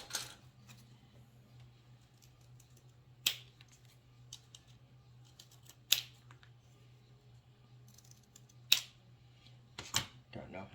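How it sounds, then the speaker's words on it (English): Scissors cutting a small square of chipboard, a few sharp separate snips spaced seconds apart over a quiet low hum. "I'm going to grab a piece of chipboard. Cut a little square."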